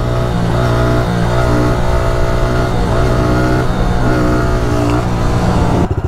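A motorcycle engine sits loud and steady against its rev limiter, a dense, sustained buzzing drone close to the microphone, with a few choppy pulses at the end.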